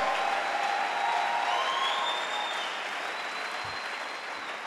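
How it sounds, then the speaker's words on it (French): Church congregation applauding and cheering in praise of Jesus Christ during a sermon, a dense, steady roar of clapping that fills the whole clip and fades slightly toward the end. "Acclame Jésus-Christ."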